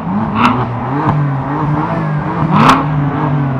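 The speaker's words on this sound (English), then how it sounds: "Let's rev them up, guys. Both of them, rev them up." A BMW M4 and a Corvette sit side by side, their engines idling with a steady low drone broken by two sharp, loud revs, one early and one near the end.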